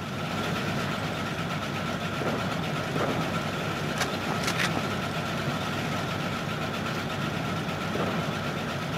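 Heavy Panzer tank engine idling in a Call of Duty World War II battle, a steady low rumbling drone running throughout with a few sharp metallic clanks midway.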